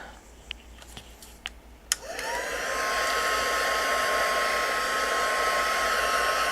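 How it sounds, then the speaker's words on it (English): A few light taps on the craft table, then a heat tool on its low setting switches on and blows a steady, close whooshing whir that holds to the end while drying a handmade Christmas card. "I'm just going to speed it along with the heat tool. And I think I'll go on the low setting."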